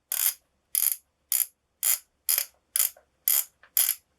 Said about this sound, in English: The dial is a stop-step dial.